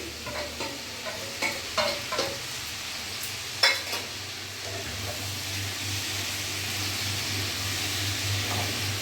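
Grated ginger and slit green chilies are stirred in a frying pan: a few scraping strokes near the start over a continuous gentle sizzle that carries on steadily.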